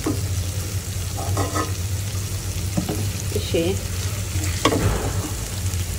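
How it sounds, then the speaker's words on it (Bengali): Hilsa fish fries with spices in a pan, giving a steady, loud sizzle over a low hum, with occasional stirring scrapes and faint background noises. "আমি হলো ইলিশ মাছ কষাইলাম মশলা দিয়ে"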